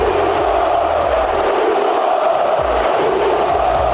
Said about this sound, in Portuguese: Um grito diferente ecoou nas arquibancadas do Maracanã.